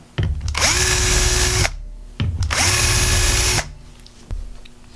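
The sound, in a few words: power drill drilling two holes with self-centering drill bit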